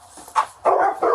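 Dogs barking in a basement during an animal rescue, a short bark followed by a longer run of loud, close yelping barks.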